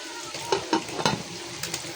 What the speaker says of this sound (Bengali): এই যে পাশে পেঁয়াজ মরিচ দিয়ে দিলাম, একসাথে ভাজা হয়ে যাবে